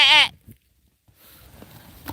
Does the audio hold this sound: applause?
no